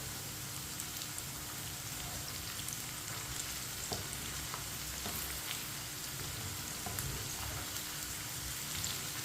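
Besan-coated bhindi (okra) frying in a pan, a dense continuous sizzle like light rain with scattered small pops, steady and close throughout, no talking.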